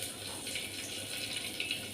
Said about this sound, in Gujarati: એટલે આપણે થોડું વધારે પાણી નાખશું